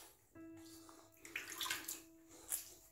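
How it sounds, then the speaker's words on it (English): After a shave, water splashes and trickles as a face is rinsed over a running tap at a sink, with a steady faint hiss of flow and bursts of splashing, close by and fairly quiet. "Now, let's get that rinsed off."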